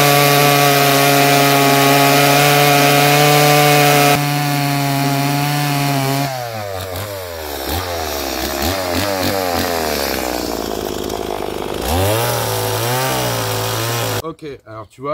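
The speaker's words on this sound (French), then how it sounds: "Ok, alors tu vois, une tronçonneuse." A chainsaw cuts through wood in a forest at close range. The engine whines steadily, then rises and falls in pitch as the chain bites into the log, and a voice talks over it partway through.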